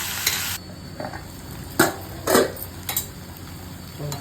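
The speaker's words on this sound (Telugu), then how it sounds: "మధ్యలో మధ్య ఇలా కలుపుకుంటూ ఉంటే సరిపోతుంది" A spoon stirring tomato dal with salt in a pot, giving a few short scrapes and knocks against the metal over a soft, steady cooking hiss.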